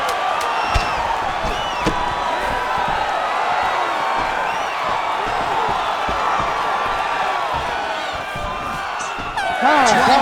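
Capacity arena crowd at an Anderson Silva vs Tyron Woodley fight giving a standing ovation, a loud continuous roar of cheering and whooping with a brief higher burst near the end.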